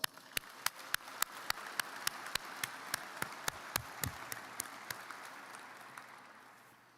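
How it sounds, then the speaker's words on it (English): A university commencement audience applauds in a large hall, a steady wash of many hands clapping with a few sharp nearby claps standing out, fading gradually toward the end. "So please join me in giving them all a round of applause."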